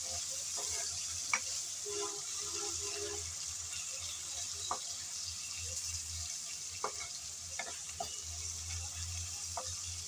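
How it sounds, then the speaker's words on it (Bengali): Carrot stir-fried in a pan, a soft continuous sizzle with scattered light clicks of a utensil against the pan, quiet and close with no voices. "নেড়ে চেড়ে ভালোভাবে গাজরটা ভেজে নিতে হবে।"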